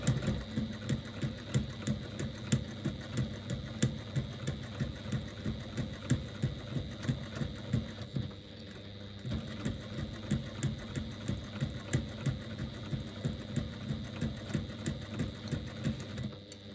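A sewing machine stitches a zipper seam on a bag, running steadily with a rapid, even rhythm, pausing briefly midway before continuing at the same pace.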